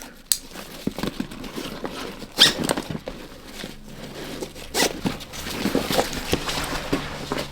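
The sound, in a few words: opening a Mystery Ranch backpack, zipper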